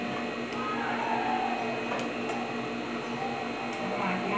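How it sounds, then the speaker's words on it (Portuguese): An overlock sewing machine stitches fabric with a steady, close mechanical whir that runs continuously at an even level, with no pauses and no voices. "Vamos passar aqui essa parte aqui no overlock"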